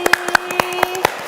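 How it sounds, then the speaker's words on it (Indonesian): Clapping for Fahri, a child performer at a kindergarten event, heard as a run of spaced, sharp claps over a steady background tone. "Sekali lagi beri tepuk tangan dulu dong buat Fahri."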